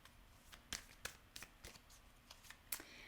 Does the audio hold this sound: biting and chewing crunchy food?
no